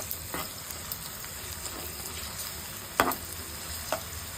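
Onions and ginger paste fry in a pan with a soft, steady sizzle, faint and close, while a spoon stirs them, giving a few brief scraping clacks, with no talking.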